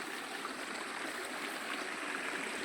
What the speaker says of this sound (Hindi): तो देखो नदी, यहाँ पर हमें पार छलांग मारना है।